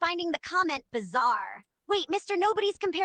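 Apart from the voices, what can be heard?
No everyday noises stand out.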